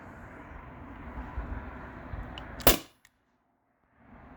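A modded T4E HDP50 HPA-tank airsoft pistol fires 8.4-gram steel bearings, giving one sharp close crack after a background hum. A short silence follows.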